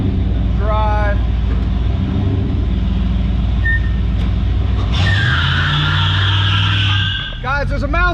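A 1991 Pontiac Firebird doing a burnout, engine roaring loudly as the tires break loose and screech in a sustained squeal, with brief voices near the end.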